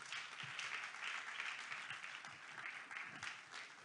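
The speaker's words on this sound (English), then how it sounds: "let's make that applause bigger and better for Usen Ekong Udo." A crowd claps steadily at a church convention session, a dense sustained round of applause from a large audience that swells slightly and continues throughout.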